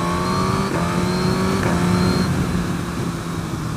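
Suzuki GSX-R1000R superbike engine revving hard, a loud, steady high-pitched drone with harmonic whine held throughout, close to the listener with no talk over it.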